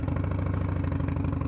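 A motorcycle engine fitted with an SP Concepts Lane Splitter exhaust, ridden around San Jose, California, gives a steady, close, throbbing low rumble with a regular pulsing beat and no voices.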